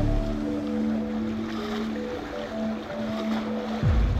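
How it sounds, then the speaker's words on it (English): Sailing canoe fleet out on open ocean, steady wash of waves and wind around the hull with a low continuous drone throughout, no voices. "After leaving the relative calm of Lamotrek's lagoon, the fleet moves into voyaging position, with Ali and Queen Veronica taking the lead"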